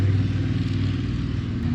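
Low rumbling engine noise from a motorcycle passing on the road, a steady close drone that swells slightly.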